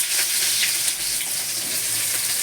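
Sliced onions go into hot oil with fennel seeds for a squid thokku, producing a continuous close, bright sizzle and hiss with no speech.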